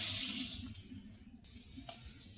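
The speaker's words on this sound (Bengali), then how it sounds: "তরকারিটা ঢেলে ফেলছি।" Prawn curry is poured from a pan into a bowl, a soft wet slosh and trickle that fades over a couple of seconds, with a light clink near the end, quiet and close.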